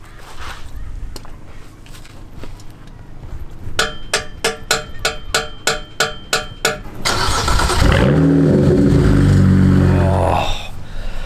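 A car engine is cranked with a series of rapid starter bursts, then catches and runs with a loud steady roar, after the starter motor is given a few taps while the ignition key is held on.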